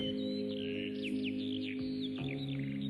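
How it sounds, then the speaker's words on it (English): Several birds sing with quick, high chirps and sweeping calls over a soft, steady tonal hum that sounds like background music. "I want you to listen to the birds here."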